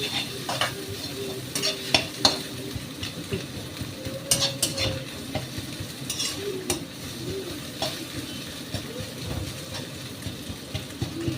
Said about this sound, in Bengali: যেরকম স্ক্রাম্বলড হয় আর কি, পেঁয়াজের সাথে ভাজছি।